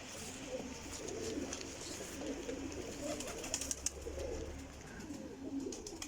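Soft cooing of flying pigeons, domestic birds kept by a fancier, low repeated coos near and faint over a light background hum, with a few sharp flutters.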